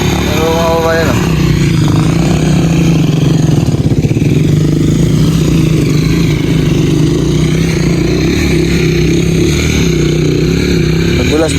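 A motorcycle engine drones loudly and steadily on a muddy, slippery mountain trail, revving with a rough mechanical clatter, while people talk over it.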